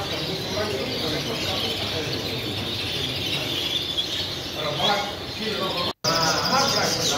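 Prize-winning show birds at an ornithological exhibition in Las Lomas del Albujón, Campo de Cartagena, chirp and squeak in a busy chorus of high tweets over continuous hall noise, with a brief dropout near the end.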